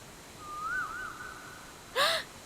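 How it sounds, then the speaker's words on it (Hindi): An Asian koel calls outdoors: one drawn-out, wavering whistled note, then a brief pause and a short, sharper rising note, fairly faint over a quiet background. "ये तो कोयल की आवाज है। इसकी आवाज कितनी रोमांटिक है ना।"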